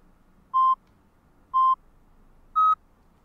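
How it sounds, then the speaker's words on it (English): Three short electronic beeps from edited film audio, evenly spaced about a second apart, the last slightly higher in pitch, clean and alone over a faint background hum. "So you can see where that beep is."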